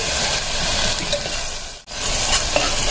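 Masala with ginger garlic paste is stirred in a frying pan, a steady close sizzle with scraping stir sounds, a brief gap near the middle, then continuing evenly.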